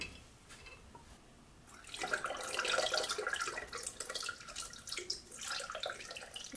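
Water at 20 degrees pours into a film developing tank in a home darkroom: a quiet start, then a steady splashing stream for several seconds, heard up close.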